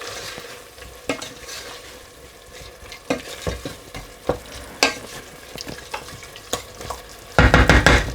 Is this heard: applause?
no